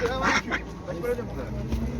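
Pekin ducks quack repeatedly at a busy, noisy poultry market, their calls mixing with people talking nearby.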